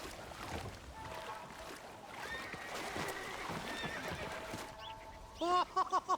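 Horses whinny and neigh in the video game Red Dead Redemption, with a loud, shrill neigh rising near the end over a murmuring background.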